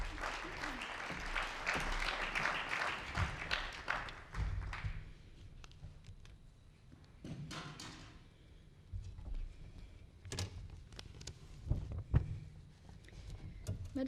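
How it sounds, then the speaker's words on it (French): Audience applause at the opening of a civic engagement day, a strong burst of clapping that fades within a few seconds, followed by quieter room noise with thumps and a few scattered claps. "Je vous demande de l'applaudir très fort."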